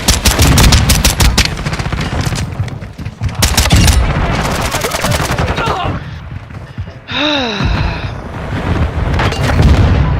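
Rapid bursts of automatic gunfire and heavy grenade explosions in a shooter video game, loud and close, with rolling booms, a brief lull, and a falling whistling tone before more firing resumes.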